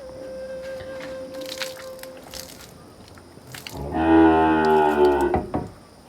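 A thin, bony cow on a farm gives one long, loud, deep moo close by, after a stretch of quieter outdoor rustling and a faint steady tone.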